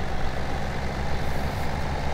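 A tractor engine in Farming Simulator 17 runs at a steady idle, a constant low diesel rumble with no changes or breaks, close and fairly loud.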